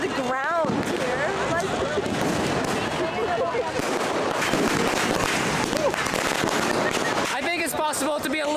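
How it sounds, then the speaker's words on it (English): Fireworks and firecrackers go off at a Diwali celebration in India as a dense, continuous crackle of pops and bangs, loud and close, with voices and shouting mixed in. "everybody's just setting off their own fireworks and firecrackers"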